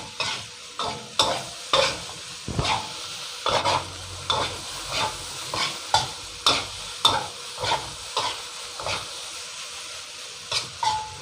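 Rice tossed with leftover shrimp paste chili dip and flaked mackerel in a pan, with a steady run of scraping spatula strokes over a soft sizzle, close and fairly loud, no talking.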